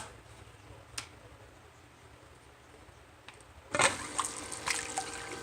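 A Silt Scrubber gold-panning machine starts running with water, a sudden burst of splashing and rattling after several seconds of quiet with a few ticks.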